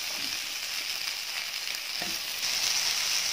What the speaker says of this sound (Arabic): فهشوح كمان البطاطس معاها